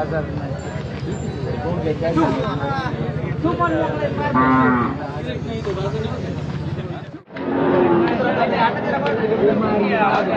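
A bull at the Belhe cattle market lets out a long, loud moo amid a busy crowd of people chattering nearby, followed by another lowing call.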